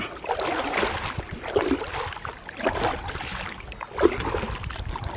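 A canoe paddled up the Ochlocknee River, with rhythmic paddle strokes about once a second and water swishing and gurgling close by the hull. No one speaks.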